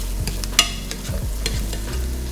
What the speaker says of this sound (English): All we're trying to do is smear the bottom of the pan.